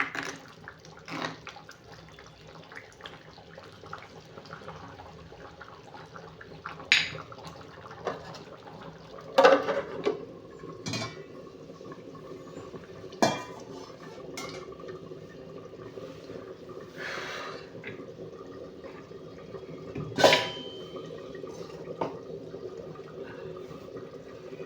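Pots and vessels being washed and scrubbed with water at a home kitchen sink, a steady running wash broken by scattered clanks and knocks of metal utensils, fairly close, with no talk.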